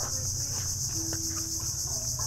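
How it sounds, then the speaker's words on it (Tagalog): A constant, high-pitched chirring of crickets fills the background, loud and unbroken, with faint scattered bird calls. "yung tunog ng mga kuliglig"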